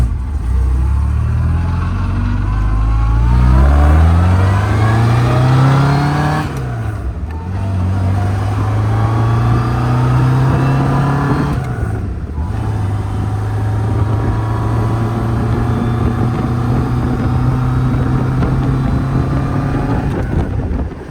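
A 1972 MG on a road test after clutch repair revs up through the gears, engine pitch climbing then dropping at each of two shifts before settling into a loud, steady cruise.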